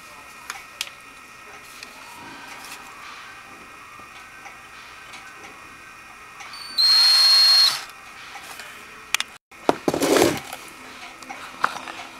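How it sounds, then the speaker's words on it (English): A handheld power drill bores through aluminum for a Garmin Striker 4 fish finder mount in a quiet room: one short burst of whirring, then a second rougher spurt with clicks around it. "let's see how we get that drilled out"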